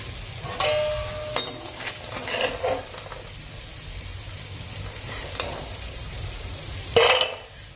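Cashews and almonds roasting in ghee are stirred in a pan, giving a soft steady sizzle broken by several scraping, clinking strokes of a spoon against metal, one louder clatter near the end, with no talking.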